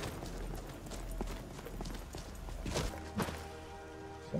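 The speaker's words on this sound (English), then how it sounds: "That's her horse right there." Faint hoofbeats of a horse in Skyrim clopping at a walk over a low steady hum, irregular thuds growing slightly more distinct toward the end.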